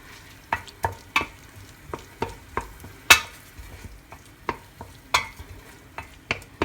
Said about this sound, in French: faire revenir l'oignon coupé en morceaux avec la gousse d'ail